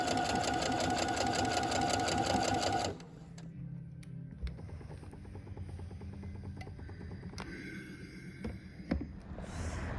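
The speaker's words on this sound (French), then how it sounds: "voici la machine à coudre sur laquelle j'ai cousu" A domestic sewing machine runs loudly for about three seconds with a steady rapid stitching rattle, then stops, leaving a quieter room with small clicks and handling noises.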